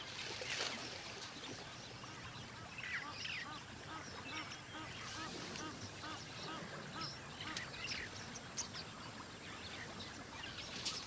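Knob-billed geese call near a waterhole where elephants and giraffes drink, a busy overlapping chorus of honks and quacking notes over a steady outdoor wash.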